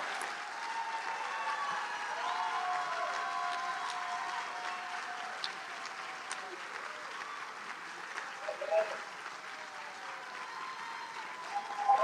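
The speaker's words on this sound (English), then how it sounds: "I need more clapping." An audience at the Spirit of Manatee community foundation event applauds a speaker onto the stage, steady sustained clapping filling the room for several seconds, fairly even and moderately distant.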